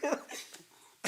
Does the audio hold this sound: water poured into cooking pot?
no